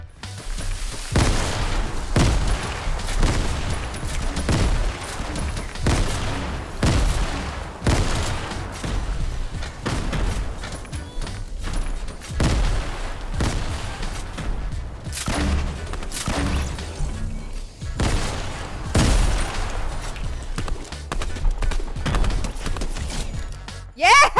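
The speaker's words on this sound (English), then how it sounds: "The grenade launcher." Repeated grenade launcher blasts in Fortnite Save the World, a steady series of loud booming explosions with short gaps, going on throughout with game noise between them.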